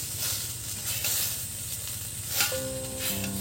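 Turmeric paste and chilli sizzle in a pot of khichuri as they are stirred, a steady close hiss with a brief scrape and clink near the end.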